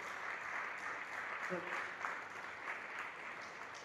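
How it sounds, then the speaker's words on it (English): Applause from an audience at a Founder's Day ceremony as a book is unveiled, a steady wash of clapping throughout with someone speaking briefly over it. "Can we have a huge round of applause"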